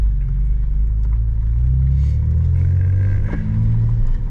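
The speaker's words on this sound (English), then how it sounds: "I barely tapped the gas and it just." A BMW G82 M4 accelerates briefly as the throttle is tapped, a loud, close, steady low engine rumble that swells slightly toward the end, with no talk over it.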